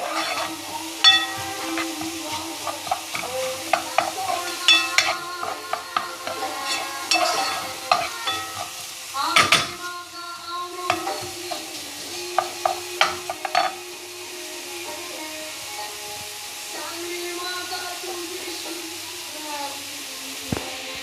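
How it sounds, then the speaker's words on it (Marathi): Onion frying in hot oil and being stirred for Goan fish curry, a close, busy sizzle with frequent utensil scrapes and knocks that settles into a steady hiss near the end. "असो बरो फ्राय कर पियाव"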